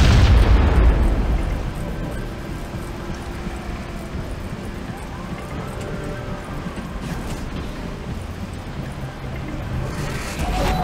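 A grenade detonates in the online shooter Shadowgun War Games, giving a loud deep boom at the start that fades into a long low rumble and faint background noise, with the blast swelling again briefly at the end.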